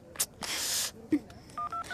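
A quick series of electronic keypad tones as a phone number is dialed, short beeps with brief gaps, preceded by a burst of hiss and a click, in a Hindi-dubbed South Indian film.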